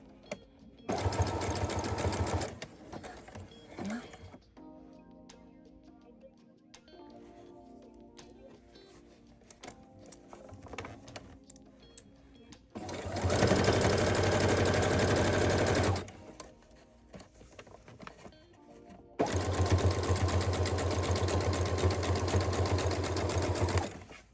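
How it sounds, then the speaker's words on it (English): A sewing machine runs in loud bursts of rapid stitching, stopping and starting as fabric catches underneath, with back-stitching, quieter handling noises and a little talk in the pauses. "Keep stopping because it's getting caught underneath the sewing machine."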